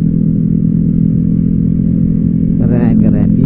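A Yamaha Mio motorcycle engine idles and rumbles steadily up close, with a brief burst of clattering or revving near the end.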